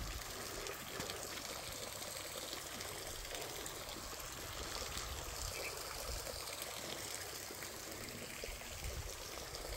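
River water at a bridge construction site flows in a steady, faint broadband wash, continuous and even with no distinct events.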